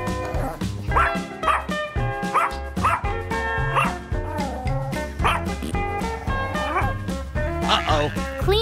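Dogs bark and yip repeatedly in a home zoo, sharp close barks in a quick uneven rhythm layered over constant background music, loud and near.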